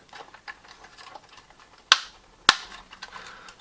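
A plastic body shell snapping onto the chassis of a 4WD RC military truck kit, two sharp close clicks about half a second apart over faint handling noise.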